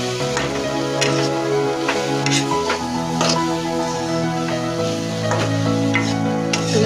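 A sweet modak filling, flavoured with cardamom, being stirred in a pan until it melts down, with steady scraping and soft sizzling under layered background music and no talk.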